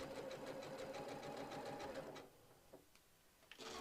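Sewing machine running test stitches on fabric for a travel tissue holder, a quick rhythmic clatter lasting about two seconds before stopping, followed by a couple of faint knocks.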